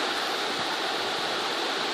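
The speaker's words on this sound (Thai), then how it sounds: "เชิงตะพักของน้ำที่ไหลมานะครับ" A waterfall stream pours over granite rock terraces, giving a steady, dense rushing wash of water that is close and continuous, with no voices.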